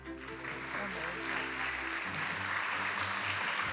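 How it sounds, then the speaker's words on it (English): Audience applause greets a moderator taking the stage at an environmental conference plenary session, a steady wash of clapping with some music or tonal hum underneath, moderately loud and sustained throughout. "Please give a big round of applause to Professor Low."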